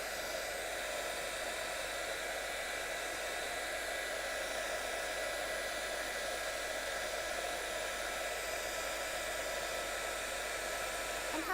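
A heat tool blows a steady, even hiss of hot air across embossing powder for the whole stretch, close and continuous without breaks.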